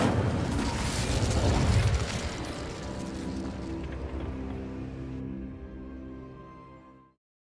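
Incendio fire spell cast in Hogwarts Legacy, a loud burst with a roaring, crackling whoosh that holds for several seconds, then thins into a steady hum and fades out.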